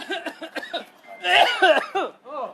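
A Baltimore City police officer coughs loudly and roughly in a short burst in a housing project, surrounded by quick chuckling, breathy vocal sounds.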